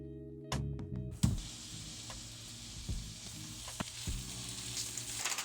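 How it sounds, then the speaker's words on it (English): Hot dogs fry in a pan with a busy crackling sizzle, punctuated by a few clatters and stirring knocks, close and fairly quiet throughout. "next thing is frying these hot dogs"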